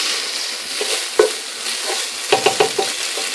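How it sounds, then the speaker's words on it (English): Ground turkey browning with onion and bell pepper for chili is stirred in a pan, a close steady sizzle broken by a spoon scrape and then a quick run of four or five stirring clatters near the end. "I am going to finish stirring this up. This is browning very nicely."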